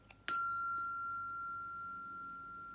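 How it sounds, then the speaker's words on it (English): An Anverdi spirit bell, a magician's trade-show prop, gives a single clear ding that rings on and slowly fades, loud and close in an otherwise quiet room. "It is better to let the dings happen in a slow, more mysterious manner"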